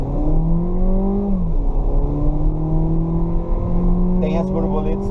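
Volkswagen Virtus GTS 2020 with a six-speed automatic accelerating from inside the cabin, engine tone rising steadily through the gears with a brief dip at a shift, loud and close, while someone talks over it.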